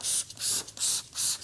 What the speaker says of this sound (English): I'm spraying it inside the wheel as well.